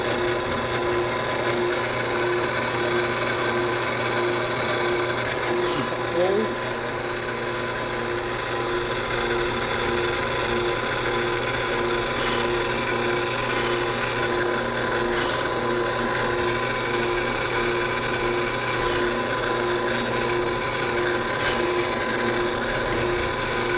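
A drill press bores a shallow counterbore into a boat's pilot hatch so a machine-screw bolt head can sit flat, giving an unbroken grinding whine at an even level for over twenty seconds.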